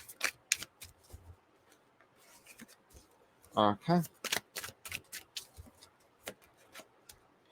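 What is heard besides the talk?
shuffling tarot cards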